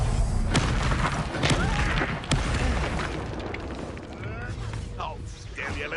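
A fire spell cast in the Hogwarts Legacy game on PS5 erupts in a loud booming burst of flames, followed by further impacts and crackling combat effects amid shouting voices.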